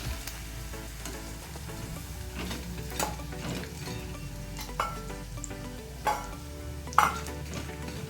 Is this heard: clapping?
no